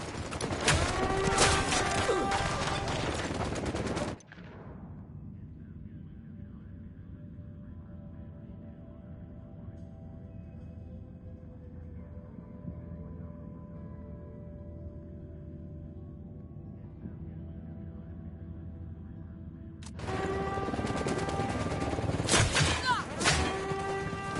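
Gunfire in a Ghost Recon firefight: loud bursts of shots with shouting voices at the start and end, separated by a long, quieter stretch of low rumble.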